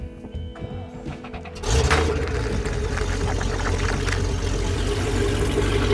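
A railway engine cranks briefly, then catches and settles into a loud, steady running rumble that continues without a break.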